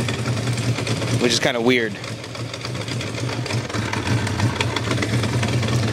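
A 1975 Honda CB400F motorcycle engine idles with a fast, buzzing, uneven patter while misfiring on some cylinders and spitting liquid from the muffler. It runs steadily up close, with someone talking over it.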